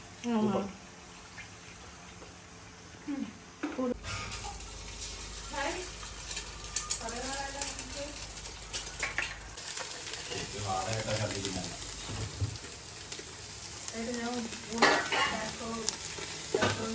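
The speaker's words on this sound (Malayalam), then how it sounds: "അങ്ങനെ ചിക്കൻ ഫ്രൈഡ് റൈസ് റെഡി ആയിക്കൊണ്ടിരിക്കുകയാണ് വെജിറ്റബിൾസ് ഇട്ടിട്ടുണ്ട് എഗ് ഇട്ടിട്ടുണ്ട് ചിക്കൻ ഉണ്ട്" Chicken fried rice with vegetables and egg is stir-fried in a home kitchen, a soft sizzle broken by scraping and stirring strokes of a spatula, while a person talks throughout.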